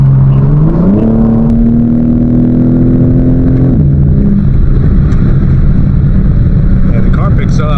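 BMW M4 LCI engine and exhaust drone, loud and steady, rising in pitch as the car accelerates at night, then easing off.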